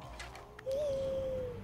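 A single soft, hooting bird call in the Stone Age game Far Cry Primal, one sustained tone after a short quiet lead-in, heard alone without talk.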